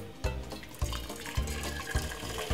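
Freshly boiled water is poured from a kettle in a home kitchen, a steady liquid stream with soft, regular splashing pulses, close and fairly quiet.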